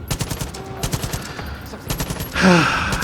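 Rapid bursts of gunfire from Far Cry 5, a fast string of close, loud shots with short gaps, then a louder swelling crack near the end over game background noise.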